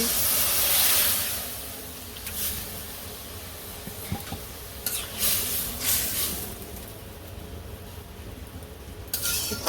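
Rice starch water poured into a pan of fried greens in a village kitchen sets off a steady hiss and sizzle, with brief louder bursts of steam near the start and end.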